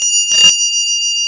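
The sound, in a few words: small decorative bell with a harp on it ringing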